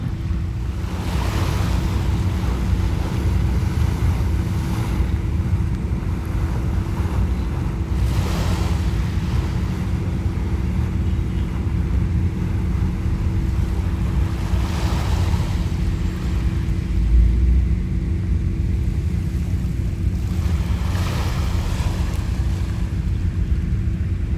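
Steady ocean surf and wind at Dolomite Beach, with rushing surges of sea water spouting up, rising and fading every several seconds.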